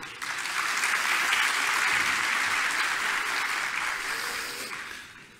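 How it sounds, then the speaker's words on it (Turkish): Loud, continuous applause from a seminar audience in a hall at a Turkish tax seminar, swelling quickly and then fading toward the end. "yürekten alkışlıyorum"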